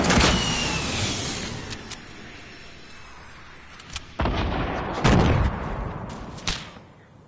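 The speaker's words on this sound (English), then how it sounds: "they're shooting us from the open wall that you have" Gunfire from a Fortnite battle royale match, several sharp loud shots and cracks scattered across a noisy, busy game soundscape, heard close with no talk.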